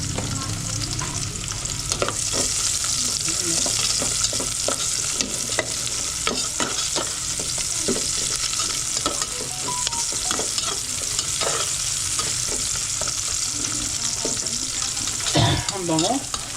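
Sliced onion sizzles hard in a pan while a spatula stirs and scrapes it in frequent, uneven strokes, close and continuous, with a louder clatter near the end and no talk.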